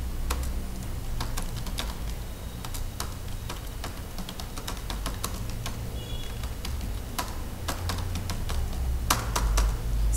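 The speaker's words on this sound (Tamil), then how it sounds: "அட்ரஸ் எல்லாமே டைப் பண்ணிக்கோங்க." Address details typed on a computer keyboard, a steady stream of crisp keystrokes with small irregular pauses over a low background hum, close-miked and unbroken by speech.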